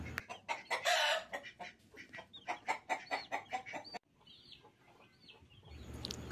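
Hens cluck steadily in a rapid run of close calls, then thin high peeps from newly hatched chicks follow over a quieter background.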